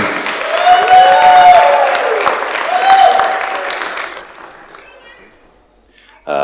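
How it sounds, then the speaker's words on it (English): A room full of people at a toast applauds loudly with some whoops and cheers, the clapping swelling then tapering off to near quiet before a voice starts. "Connor, give a round of applause for him."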